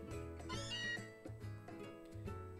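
A cartoonish cat meows repeatedly in the Pokémon Sun video game, several rising and falling cries over soft background game music, clear and close.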